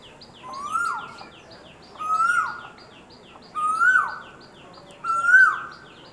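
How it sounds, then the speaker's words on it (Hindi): An Asian koel calls four times in a steady rhythm, each a clear rising whistled note with a sharp upward sweep, close and prominent over quiet background hiss. "अब देखिए कोयल रानी आ गई हैं, ये देखिए"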